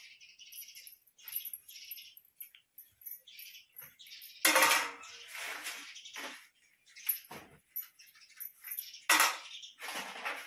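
Dishes and utensils are put away in a home kitchen, giving quiet, scattered clinks and clatters close by, with a few sharper knocks between short pauses and no talking.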